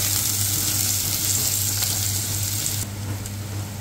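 Onion, garlic and ginger sautéing and being stirred in a pan for beef pares, a steady close sizzle with a low hum underneath and a slight drop in level near the end.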